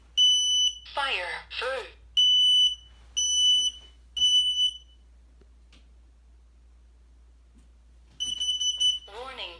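Hardwired smoke and carbon monoxide alarm sounding during a test, loud piercing beeps in repeated groups of three close by, with a person talking between the groups.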